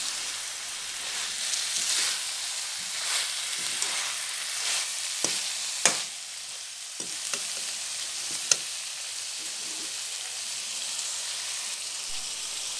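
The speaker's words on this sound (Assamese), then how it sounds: "নিমখখিনি সান খোৱাকৈ আকৌ লৰাই দিছোঁ ভালদৰে।" Pointed gourd tossed with salt in a frying pan, a steady hiss of frying with scattered scraping clicks of a spatula stirring, close and moderate in level, no voices.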